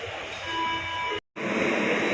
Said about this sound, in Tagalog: eto na yung service namin yung tren